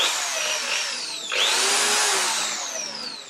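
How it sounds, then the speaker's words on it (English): A handheld electric drill with a sensitive trigger runs steadily, its whine dipping briefly then rising as the trigger is squeezed harder, close and alone for a few seconds. "I must mention the trigger is very sensitive, so you can actually control the intensity of the drill by"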